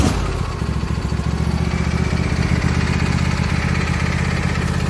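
A Husqvarna lawn tractor engine is started with its parking brake set, then runs at a steady, fairly loud idle nearby, alone and without speech.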